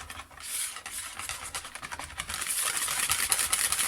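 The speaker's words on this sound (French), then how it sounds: "Allez, on va pouvoir mélanger." A spoon stirs melted chocolate into cake batter in a bowl, with soft, wet, irregular scraping and occasional light clinks against the bowl.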